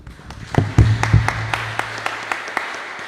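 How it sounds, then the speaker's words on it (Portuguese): A small group of church worshippers clapping during a live service, a few sharp loud claps at first followed by sparse, fading hand claps over a low hum. "as palmas para o Senhor"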